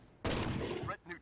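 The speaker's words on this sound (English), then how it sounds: "I'm gonna take his shotgun to clear this place" A single loud shotgun blast in Rainbow Six Raven Shield, a sharp close report with a short decaying tail and a fainter follow-up clatter.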